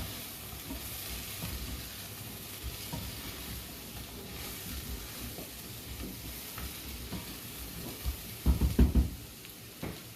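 Parsnips roasting in a pan make a steady close sizzle and frying hiss, with stirring scrapes and a burst of louder knocks near the end.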